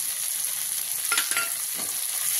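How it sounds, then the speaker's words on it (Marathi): Chopped coriander dropped into a sizzling tempering for shingole, a steady loud hiss of frying oil with a brief crackling flare as the leaves hit the pan, no voices. "आता आपण कोथिंबीर टाकत आहोत."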